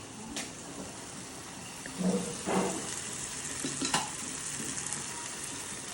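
Tempered rice frying in a pan gives a soft, steady sizzle, with a few scraping stirs and light clinks of utensil against the pan, fairly quiet and without speech.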